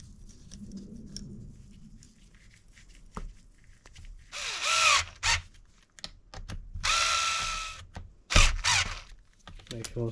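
A power driver runs screws back into the diff case of a Kraton 8S EXB RC car in several close, loud whirring bursts of varying length, separated by quieter handling clicks.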